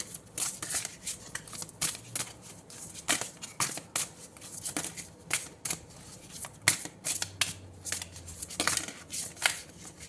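Tarot cards are shuffled by hand in quick, irregular bursts of riffling and slapping, close and moderately quiet. There is no talk.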